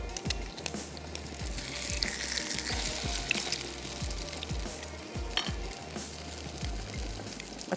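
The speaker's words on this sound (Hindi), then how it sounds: "ये जो कबाब हमारा तैयार हो रहा है" A kebab patty for a street-style bun kebab fries in a hot pan, a close, constant crackling sizzle dotted with frequent soft popping spits of oil throughout, with no voices.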